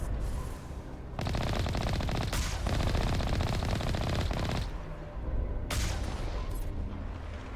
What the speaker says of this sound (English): They will start shooting at us right away.